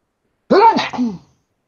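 A single sharp sneeze bursts out close by, with a quick two-part gasp and release, then silence.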